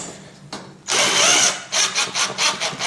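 Power screwdriver driving a screw into a shoe rack bench during assembly, a short whine followed by a loud half-second burst and then several quick pulsing bursts as the screw is run home, close by.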